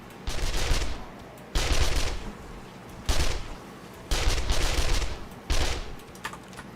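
Bursts of automatic gunfire in the zombie-survival video game 7 Days to Die, five sustained loud volleys of rapid shots separated by short pauses, no talk.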